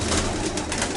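Pigeons coo softly nearby, a low rolling burble repeating over a faint background hum.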